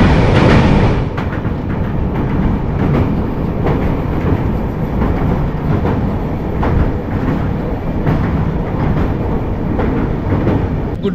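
A passenger train on the Kolkata to Darjeeling route rolls along the rails in light rain, a loud, steady rumble with repeated clickety-clack beats from the wagons, close and continuous.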